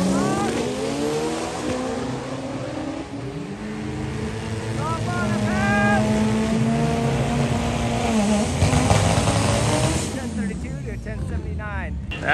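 A 1,000 horsepower Honda EK hatchback with a 62 mm turbo drag racing at Bandimere Speedway, its engine note rising through gears with loud, sustained roar and changing pitch, a commentator talking over it.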